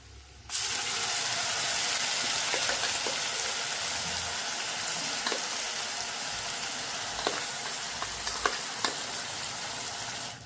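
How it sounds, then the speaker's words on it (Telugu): Onion-chili paste frying in a tempering of curry leaves for a spinach dish, a loud continuous sizzle with a few sharp pops and spatters near the end, close and without speech. "ఇప్పుడు మనం ముందుగానే ప్రిపేర్ చేసి పెట్టుకున్న ఈ ఉల్లికారాన్ని ఈ పోపులో వేసుకున్నాం."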